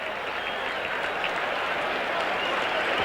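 A crowd at County Stadium claps and cheers in steady, dense applause at a Packers–Lions football game, the sound constant and enveloping with no break.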